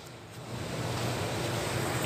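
Lemon leaves are rinsed under running water, making a dense, continuous rushing wash that swells after the first moment and stays loud and steady throughout.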